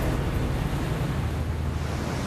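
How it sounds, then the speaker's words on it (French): Large ocean waves roar in a continuous broad wash of surf, loud and close, with a rumbling, wind-blown quality and no voices. "Les vagues sont grosses, très grosses,"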